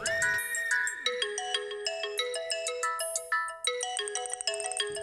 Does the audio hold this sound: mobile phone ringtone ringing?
yes